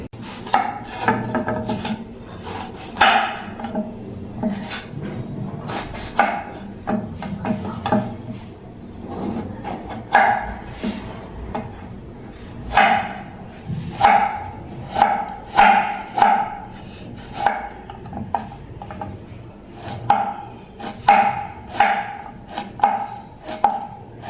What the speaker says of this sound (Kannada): ಹೀರೆಕಾಯಿಯನ್ನು ಕಟ್ ಮಾಡ್ತಿದ್ದಾರೆ